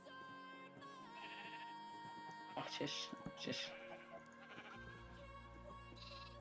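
Sheep bleating in a video game, several short wavering bleats that cluster in the middle, heard under someone talking and game background sounds.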